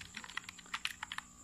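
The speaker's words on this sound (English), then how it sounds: "So, unlike sa kapag ka sa keyboard, pag pinindot-pindot mo," Fingers tap quickly on a budget computer keyboard used with a TV box, giving a run of about a dozen light, uneven clicks, close and fairly quiet with no talking.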